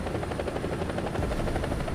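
A Bell AH-1G Cobra attack helicopter in the War Thunder video game, its rotor thudding in a steady, loud, continuous chop that fills the clip with no talk.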